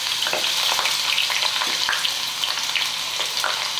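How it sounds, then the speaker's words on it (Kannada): Shavige vermicelli fries in hot oil for a bakery-style mixture. A dense, bubbling sizzle runs loud and continuous throughout, with faint stirring scrapes and no talking. "ಇವು ಎಣ್ಣೆಗೆ ಹಾಕಿ ಫ್ರೈ ಮಾಡ್ಕೋಬೇಕಾಗ್ತದೆ ರೀ"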